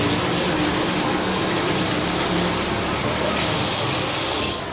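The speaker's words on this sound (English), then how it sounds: "So I'm gonna rinse my hands off." Tap water runs hard and steady into a kitchen sink as hands are rinsed after chopping, a continuous loud gushing hiss that flares brighter near the end.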